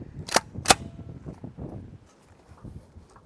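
Two sharp gunshots from a Kel-Tec P50 pistol with a 9.6-inch barrel firing Fiocchi 5.7x28mm ammunition, crisp and fairly close, followed by quieter handling noises.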